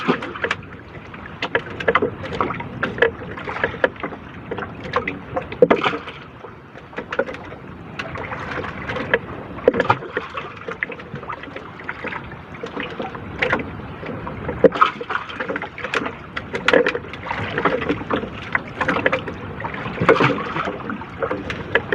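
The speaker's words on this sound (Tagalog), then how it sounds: "talagang magasla yung bangka" Continuous choppy sea water slaps and knocks against a small fishing boat's hull, with gusty wind noise and creaks throughout, no talking.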